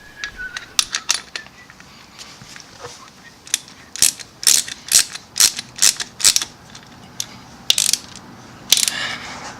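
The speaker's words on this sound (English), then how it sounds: "go over it one last time with the wrench and make sure that you can easily undo it" A ratchet wrench tightens the oil filter on a Honda VT250FG motorcycle, producing close, rapid clicking bursts in repeated strokes with brief pauses between them, crisp and fairly loud.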